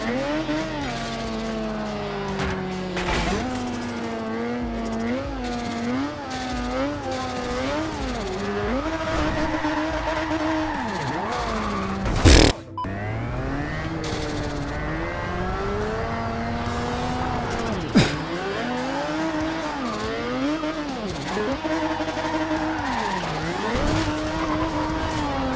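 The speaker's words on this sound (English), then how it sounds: "let's just listen to that turbo whine." A continuous high turbo whine rides over a racing car engine in the video game Forza Horizon 2, its pitch rising and falling with the throttle, with one sharp loud burst midway.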